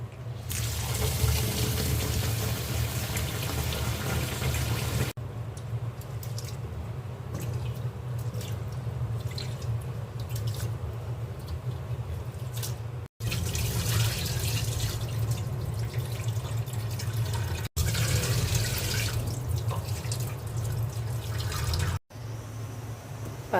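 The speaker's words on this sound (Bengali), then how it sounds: "চালটা আমি ধুয়ে নিচ্ছি।" Rice being washed under running water in a kitchen, a steady tap stream splashing and swishing in a pot, close and continuous with a few abrupt breaks.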